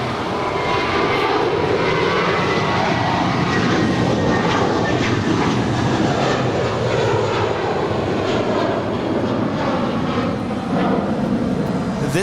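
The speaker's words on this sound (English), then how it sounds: "This departure is American 1423 departing to Boston on an A321" An American Airlines Airbus A321 jet departs LAX for Boston, its engines a loud, continuous broadband roar that stays steady and close for the whole stretch with no talk over it.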